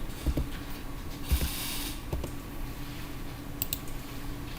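A few scattered keyboard key clicks, close and fairly quiet, with irregular gaps between presses over a faint steady background hum.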